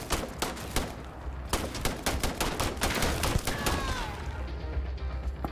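Rapid bursts of gunfire from the video game Starfield, a dense fusillade of sharp repeated shots fired at a rock, loud and close with a steady rhythm throughout, some clattering impacts mixed in.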